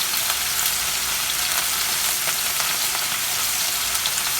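Pork searing in a hot pan for pan-seared pork with collards, a steady dense sizzle with faint crackles and pops running evenly throughout, close and alone with no voices.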